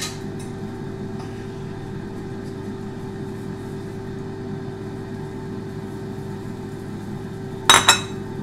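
After a quiet hum, a plate clinks against a hard surface twice in quick succession near the end, a brief ceramic clatter.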